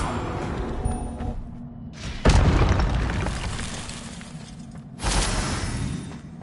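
Spells are cast in Hogwarts Legacy gameplay, with two sudden booming blasts, each trailing off into a broad rushing roar over a steady game background.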